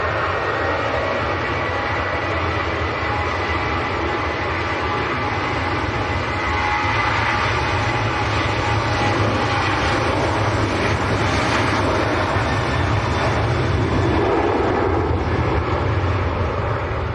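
A Ryanair jet bound for Paris taking off at Manchester Airport on a crosswind day, a loud, sustained engine roar with hissing jet noise building steadily and staying strong throughout, no voices present.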